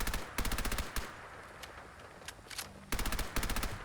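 Unsuppressed 10mm submachine gun in the Fallout video game: loud, close bursts of rapid automatic fire, with scattered single shots in a quieter middle stretch.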